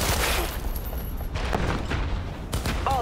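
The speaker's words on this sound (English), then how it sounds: "Exchanging fire!" A loud, continuous exchange of gunfire in Cyberpunk 2077, dense booming shots packed close together with a brief dip in the middle.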